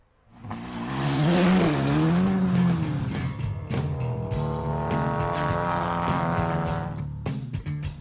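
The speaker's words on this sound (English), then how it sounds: "Soon, the Dino's on the road again." Ferrari Dino 308 GTB rally car on a Targa Tasmania tarmac stage, engine revving hard through rising gear pulls and a shift, loud and close, then easing to a steadier drone with sharp pops.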